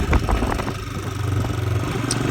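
A Himalayan motorcycle rumbles steadily while being ridden on a mountain road near Keylong, its low, continuous engine drone close and even, with faint wind hiss above it.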